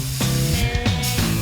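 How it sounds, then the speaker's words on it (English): A paint spray gun spraying paint gives a steady, loud, close hiss of atomised spray that runs unbroken through the whole moment, with no voices. "Look at the paint coming out of the spray gun"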